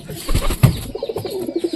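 Pigeons sitting at their nest with eggs, giving soft low throaty coos and rustling close by, with a short burst of muffled movement near the start.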